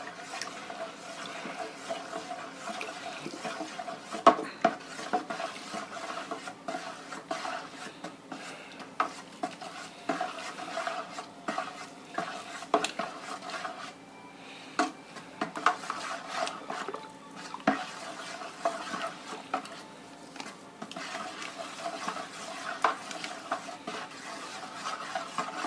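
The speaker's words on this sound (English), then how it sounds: "And I'm going to stir it as I pour this in." Bentonite is stirred into a milk chocolate strawberry port wine kit in a fermenting vessel, a continuous close swishing and scraping of liquid with occasional clinks from the stirring spoon.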